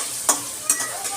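Tomatoes are stirred in a hot pan, two quick scraping stirs standing out over a low, steady frying sizzle, close and clear with no voices.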